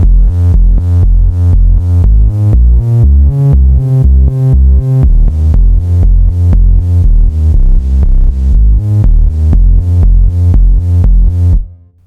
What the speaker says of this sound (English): This has kind of a side chaining effect to it.